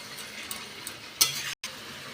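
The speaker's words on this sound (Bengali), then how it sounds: "আমি কিন্তু মোচাটা খুব ভালো করে কষিয়ে নিচ্ছি" Banana flower (mocha) is stir-fried in a pan, giving a gentle, steady sizzle with a few spoon clinks against the pan, one sharper than the rest. No one speaks.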